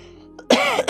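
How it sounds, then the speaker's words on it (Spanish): A single harsh cough bursts out close and loud after a brief quiet moment, with a throaty rasp at the end. "la tos me tiene mal"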